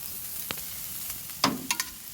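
Avocado halves are laid flesh side down in a hot pan, a soft steady sizzle broken by a few quick crackling pops and clinks close by.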